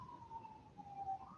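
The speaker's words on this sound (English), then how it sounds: "I apologize for the sirens" A faint siren wails in the distance, its tone wavering slowly up and down under a quiet background.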